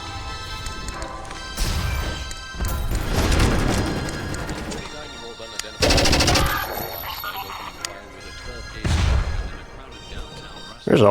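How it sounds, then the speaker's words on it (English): Bursts of rapid automatic machine-gun fire with crashing impacts in a chaotic video game battle, loud and close, several volleys separated by brief pauses. "I also have a machine gun now."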